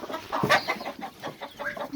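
A broody hen clucks repeatedly up close in soft, irregular bursts, with faint cheeping of her six three-week-old chicks mixed in.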